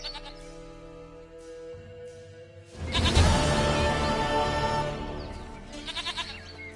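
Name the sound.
goat bleating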